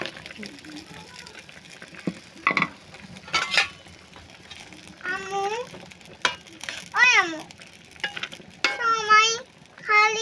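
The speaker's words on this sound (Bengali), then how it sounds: "এখন পরিমাণ মতো ঝোল দিয়ে দিব বড়ি এবং ডিম দুইটাই এর মধ্যে ঢেলে দিচ্ছি" Egg and bori curry simmering with broth in a pan gives a soft sizzle, with scrapes of stirring under intermittent talking.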